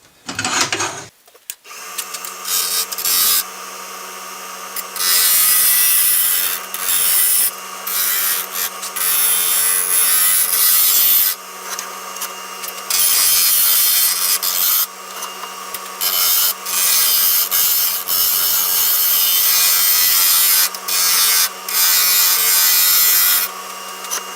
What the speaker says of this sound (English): What you're probably going to want to use here, if you have it, is a spindle gouge.